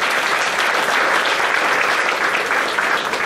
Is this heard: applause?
yes